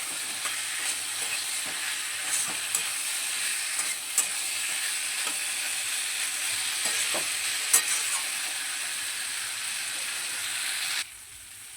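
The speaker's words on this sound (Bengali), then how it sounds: "আলু পটলটা মশলার সঙ্গে খুব ভালোভাবে কষিয়ে নেব" Fried potatoes and pointed gourd sautéed with spices in a pan give a steady, close sizzle with scattered scraping clicks of a stirring spoon, then the sound cuts off abruptly near the end.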